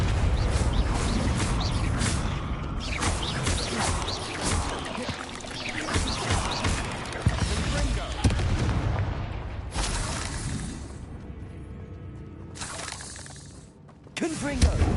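Blasting Confringo spells in Hogwarts Legacy, heard as a dense run of loud crashing, shattering bursts with game sounds and a voice mixed in, fading briefly before a final burst near the end.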